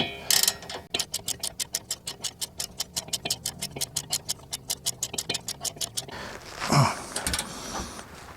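A 15 mm ratcheting wrench works a locking nut on a front sway bar end link of a Dodge Avenger, Chrysler 200 or Sebring, giving a fast, steady run of close, crisp ratchet clicks that stops abruptly, followed by a brief clunk.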